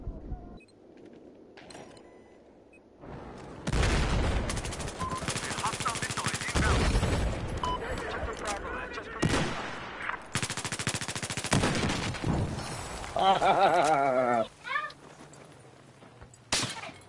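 Battlefield 4 gunfire rattles in loud, dense automatic bursts and single shots, close and overlapping across most of the stretch, with brief quieter gaps and players' voices talking over the battle.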